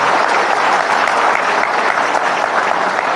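Loud, dense audience applause fills a Dhamma lecture hall at a talk by Bhante Uttamo Mahathera, a steady roar of many clapping hands that holds at full strength throughout, with no voices rising above it.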